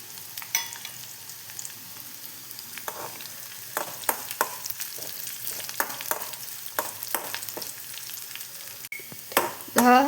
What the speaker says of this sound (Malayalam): ചെറിയ ഉള്ളിയും വറ്റൽ മുളകും മൂപ്പായി വന്നു കഴിഞ്ഞു